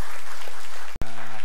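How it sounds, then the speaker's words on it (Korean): Brief burst of applause from a church congregation at a Sunday worship service, loud and broadband for about a second before a sharp cut, with a steadier tail after. "2배로 박수드리겠습니다."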